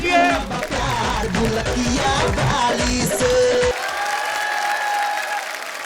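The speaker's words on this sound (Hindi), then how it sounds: "जोरदार तालियां से स्वागत कीजिए।" A stage audience bursts into loud applause mixed with music, then the clapping cuts off abruptly, leaving a quieter tonal hum.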